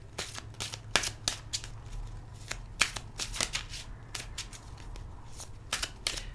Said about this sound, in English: Let's give it a shuffle test